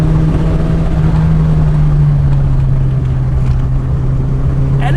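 A first- or second-generation VW Golf GTI engine holds a steady, loud hum in third gear, heard from inside the cabin with road rumble beneath it and no one speaking.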